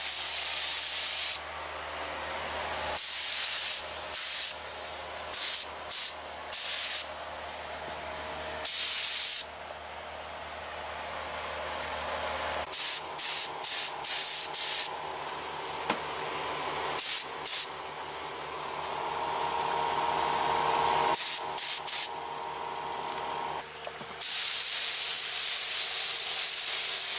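Red paint is spray-painted onto car brake calipers in repeated hissing bursts, some short and some sustained, loud and close, with clicks between passes and no talking.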